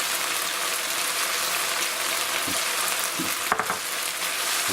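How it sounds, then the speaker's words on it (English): Onions sauté in a pan for mushroom vegetable fried rice, a dense, constant sizzle close up, with a few brief clicks near the end. "saute the onions"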